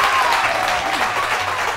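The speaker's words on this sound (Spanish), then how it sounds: "Un aplauso para él." Applause from a television show studio audience greeting a guest, a steady wash of clapping throughout the short stretch, with faint tonal sounds above it.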